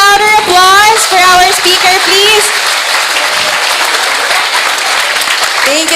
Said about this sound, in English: can we give a bigger, louder applause for our speaker, please?